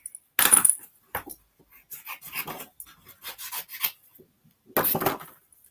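A card figure is cut out by hand, with separate close snipping and rasping bursts of the blades through card, spaced by short quiet gaps and ending in a louder final cut.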